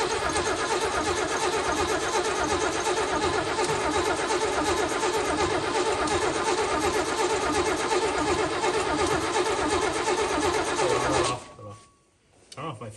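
An old 1965 Mercedes-Benz S-Class, brought back after sitting and running with an off fuel mixture, fires up and runs steadily and loudly, then cuts out abruptly near the end, with voices talking over it.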